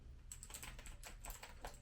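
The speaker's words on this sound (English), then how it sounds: "We haven't really heard the sound other than just randomly clicking the keys, but let's just hear it." Fast typing on a Koorui MK-082 keyboard, a burst of close, crisp key clicks in an uneven rhythm, with a few louder strikes, heard alone without talk.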